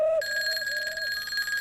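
Telephone ringing in a police commissioner's office, a steady electronic trill with bright sustained high tones continuing throughout, moderately loud, with no talking.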